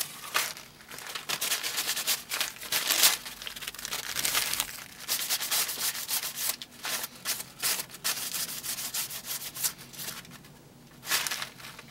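A Cold Steel knife handle is sanded by hand in quick, uneven back-and-forth strokes. The close, rasping scrapes come in bursts with brief pauses and no talking.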